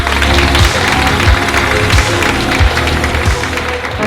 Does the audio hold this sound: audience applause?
yes